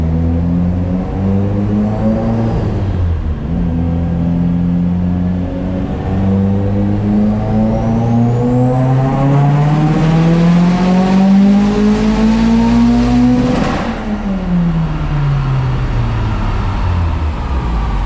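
A Mitsubishi Evo X fitted with a GTX3071 turbo, flex-fuel tuned, revs hard on a dyno, its engine note climbing steadily in pitch over several seconds before dropping off abruptly, then winding down. Loud and close, with no talking.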